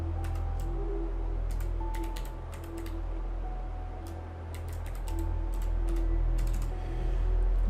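Steady typing on a computer keyboard, with quick irregular clicks and short bursts of keystrokes over a low hum, close and fairly quiet, with no talking.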